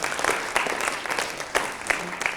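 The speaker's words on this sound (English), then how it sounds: "Let's give this man a round of applause." Applause from an audience in a room at a talk, a dense patter of clapping with a few sharper claps standing out, with faint voices mixed in.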